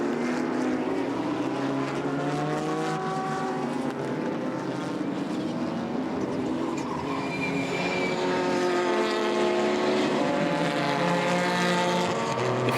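Race cars, a Nissan Skyline and a Ferrari F40, roar past in a JGTC race, a dense, constant engine drone with shifting pitch held loud throughout, no pauses, heard from trackside at a distance.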